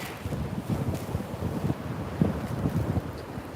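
Wind buffeting a microphone outdoors, a steady low rumbling roar with gusty fluctuations throughout and no speech.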